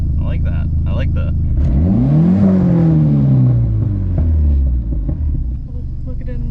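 A Dodge SRT-4 exhaust swells through one rev that climbs, peaks and falls away, close and loud, with a steady engine rumble underneath and speech briefly over it.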